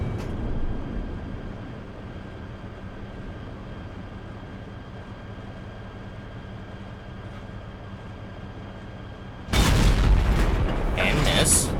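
A steady low engine rumble from an E-100 heavy tank in a video game breaks into a single loud, sharp main-gun blast near the end, followed by a lingering roar.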